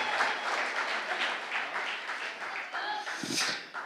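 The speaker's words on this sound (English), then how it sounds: "You may applaud." Wedding guests applaud steadily during a speech, a continuous moderate wash of clapping with a few voices mixed in near the end.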